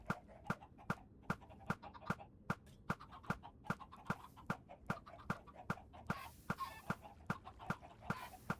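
Chickens clucking in the Minecraft video game, set against a steady run of sharp, evenly spaced clip-clop beats, with a brief burst of noise near the end.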